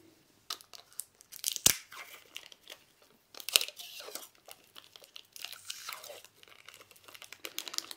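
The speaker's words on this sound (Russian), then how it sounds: "Наматываем скотч на наш брусок." Adhesive tape pulled and wound around a small wooden block, giving irregular close crinkly tearing and sticking noises with a couple of sharp rips, fairly quiet with gaps between bursts.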